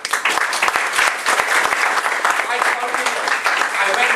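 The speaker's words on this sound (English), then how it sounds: "I think they deserve a round of applause." Audience applause fills a large gathering, a dense crackle of many hands clapping loudly and continuously for several seconds.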